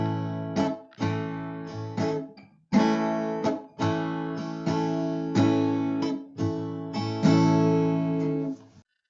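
Barre chords on an acoustic-sounding guitar strummed in a steady rhythm, about a dozen chord strokes in short groups with brief gaps, clear and close with no voices.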